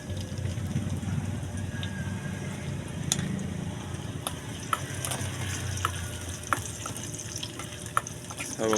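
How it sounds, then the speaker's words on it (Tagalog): Onions sautéing in a pan, a steady soft sizzle with occasional clinks of a utensil against the pan, close and moderately quiet throughout. "Tawag nito gisa."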